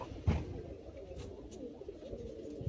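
A female pigeon in a home pigeon loft gives soft, low coos, a few muffled pulses close by with no talking.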